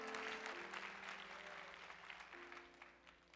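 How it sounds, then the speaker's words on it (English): A church congregation claps together in a sustained, fairly faint wash of hands, with held organ notes sounding underneath. "Now clap."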